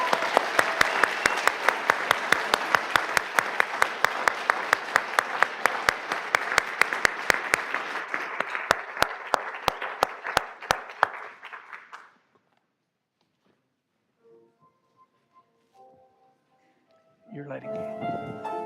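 Congregation applause at a Coming of Age Sunday church service, dense clapping that thins to scattered claps and fades to silence around twelve seconds, followed by faint sounds and then a voice speaking near the end.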